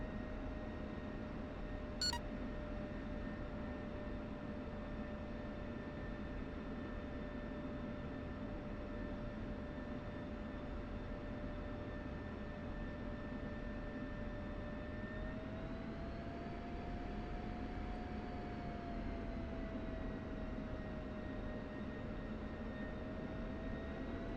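An F-16 idling and taxiing in the DCS flight simulator, a steady jet engine whine with sustained tonal hum that rises slightly in pitch midway, alone and continuous with a brief beep early on.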